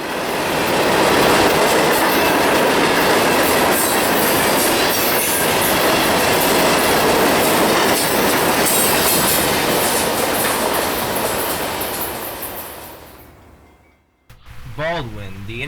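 A CSX freight train hauling a mixed string of phosphate hoppers rolls past in Florida, a loud, steady roar of rumbling wheels and clattering cars that fades abruptly near the end.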